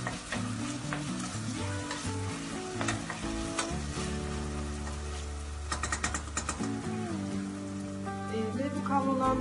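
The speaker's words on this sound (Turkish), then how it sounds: "Salçanın kokusu çıkana kadar kavurma işlemine devam ediyoruz." Peppers with two spoons of pepper paste being sautéed in a pan for an okra and chickpea dish, giving a steady, close sizzle throughout over tonal background music.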